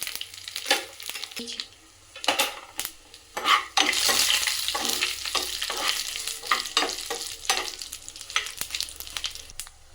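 Cumin, mustard seeds and curry leaves crackle and sizzle in hot oil, while a spoon scrapes and stirs the pan in irregular bursts.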